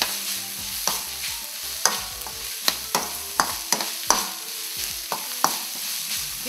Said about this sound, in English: Fry that for like 3 minutes.